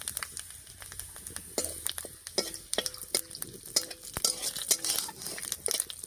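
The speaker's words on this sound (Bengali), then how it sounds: "আর ফোড়ন দেবো গোটা জিরা আর তেজপাতা দিয়ে।" Whole cumin seeds and bay leaf tempering in hot oil left from frying lata fish, a steady close sizzle broken by sharp metal stirring clinks and scrapes against the pan.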